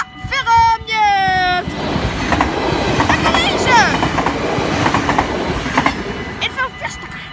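Trains in Nieuwstadt, including a long freight train, rumble and clatter past with continuous wheel noise and squeals after a short horn-like tone at the start; loud and close throughout.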